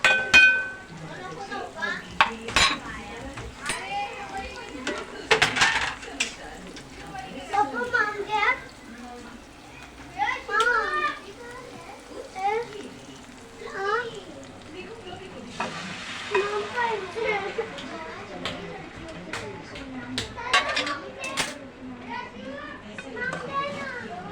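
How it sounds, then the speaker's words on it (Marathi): Cooked moong dal goes into a hot pan and is stirred, making a soft hiss and sizzle with light scraping, mostly under someone talking and children's voices nearby. "आता आपण ह्याच्यामध्ये उकम घेतलेली शिजून घेतलेलं वरण आहे मुगाचं ते टाकणार आहोत आपण ह्याच्यात"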